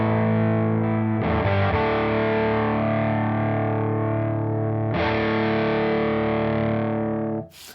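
An electric guitar runs through a Colombo Audio Electronics overdrive pedal with the treble input off and the normal input gain raised, giving a dark, thick distorted tone: a few sustained chords ringing out with fresh attacks, loud and with no voice.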